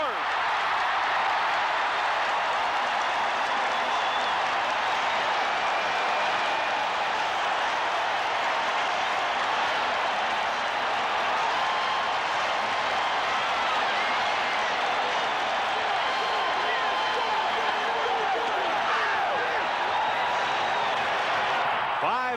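A packed stadium crowd roars and cheers steadily for Henry "Gizmo" Williams' touchdown at the 1987 CFL Grey Cup, a dense, sustained wall of noise with an announcer talking over it throughout.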